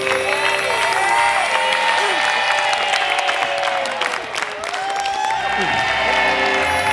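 Lively applause with cheers and whoops rises from an audience after a Toraja dance on an Indonesian family game show. The sustained clapping swells and dips briefly, with voices underneath.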